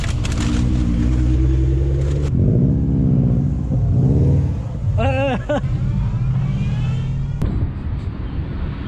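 A turbocharged 1JZ Toyota Soarer accelerates during a race, its engine droning steadily and loudly across the whole stretch with rising pitch sweeps. Voices talk over it midway.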